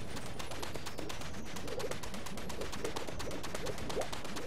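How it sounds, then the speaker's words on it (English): A bird in the Super Mario Odyssey video game gives soft, repeated coos, faint mid-pitched calls in a loose rhythm that sit under a dense, steady bed of game noise and rapid crackling taps. "There's that bird again."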